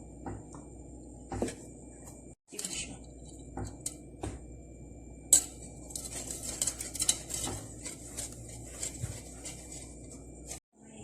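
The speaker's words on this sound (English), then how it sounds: "now mix all this together very well" Chocolate cake batter is mixed in a bowl, with a utensil scraping and clinking against the dish in uneven bursts and soft squishing in between, close and fairly quiet.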